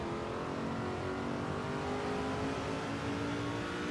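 Race truck engine from the NASCAR 2005 video game, a Chevrolet Silverado 350 practicing at Texas Motor Speedway, droning loud and continuous with shifting harmonic whine throughout.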